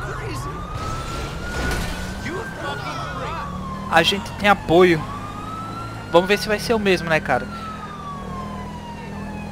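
A police siren from the GTA V video game wails in a steady rising and falling tone through the whole stretch, with someone talking over it and brief bursts of other game sounds.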